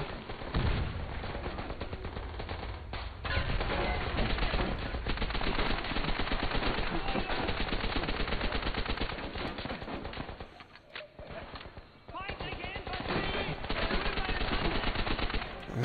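Dense, continuous gunfire from Call of Duty: World at War, with rapid machine-gun bursts and shots rattling almost nonstop, briefly thinning out near the end before picking back up, all loud and close.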